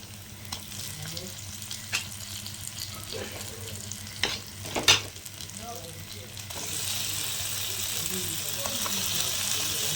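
Quail pieces drop one by one into onions frying in a pan for a pepper fry, making a low crackle with several sharp clunks and splatters, then a louder, fuller sizzle, with faint voice-like sounds in the background.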